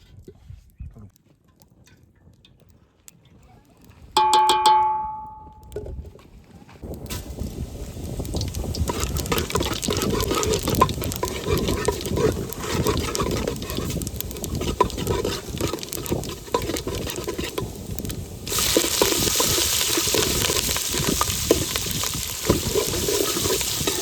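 A pot of water sits over a village clay stove in Gujarat, with a crackling wood fire and a low roiling hiss that builds and stays continuous, close by; a brief tone and a short stretch of near silence come first.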